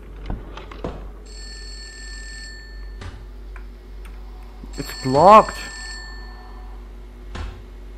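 An electronic telephone rings in a horror video game in bursts of warbling tones, with clicks and a low background hum. A player briefly speaks over it.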